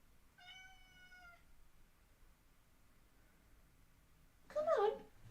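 A pet cat gives one clear, drawn-out meow close by in a quiet room, followed a few seconds later by a brief, louder vocal sound.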